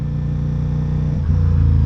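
A Ducati Diavel V4 motorcycle engine rumbles at close range with a deep, steady idle, then its tone shifts slightly lower near the end, with no talking.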